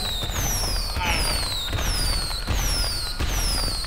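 Repeated bomb blasts go off in GTA Online as a rapid string of sharp bangs with descending whistling tones, loud and close with no break between them.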